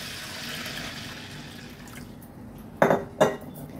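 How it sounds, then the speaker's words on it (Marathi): Half a kilo of medium sago pearls is washed in water in a kitchen vessel, with two brief, close sloshing clatters near the end after a quiet, hissy stretch. "आता हे स्वच्छ 3 ते 4 पाण्यात धुवून घेऊया आपण"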